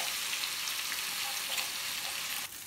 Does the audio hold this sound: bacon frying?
yes